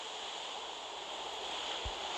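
Ocean waves lapping in a harbor port in a video game, a steady soft wash of surf throughout, faint and with no talk.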